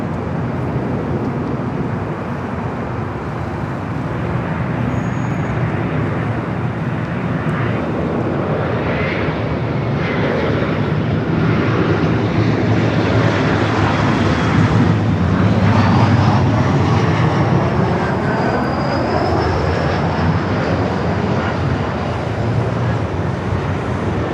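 An Air Canada cargo Boeing 767-300ER, a converted freighter, takes off at LAX with a loud, building jet roar and rumble that peaks and lingers, with faint traffic in the background.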